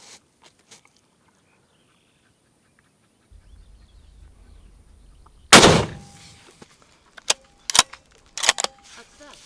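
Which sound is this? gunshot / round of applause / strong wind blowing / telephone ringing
gunshot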